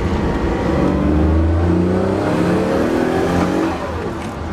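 Noble M400 race car with a twin-turbo V6 revving hard and then easing off, the engine roaring loudly and close before dropping in level near the end, a turbo blow-off valve release expected as the throttle lifts.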